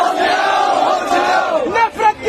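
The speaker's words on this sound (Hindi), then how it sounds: "नारेबाजी भी हुई हर तरह की" A large crowd of protesters in Delhi chants slogans against Nitish and Naidu, many voices shouting together in a loud, continuous roar with rising and falling bursts near the end.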